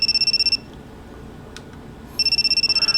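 A phone in The Eden of Grisaia rings with a bright electronic chirping tone, in two bursts separated by a quiet gap of about a second and a half.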